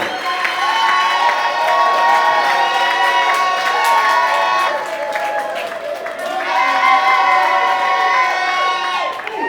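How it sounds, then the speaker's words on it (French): A crowd greets Madame Kamere Amida with sustained loud cheering, high shouts and ululating voices over some clapping, rising and easing in waves throughout. "applaudissons très fortement pour Madame Kamere Amida, très fortement"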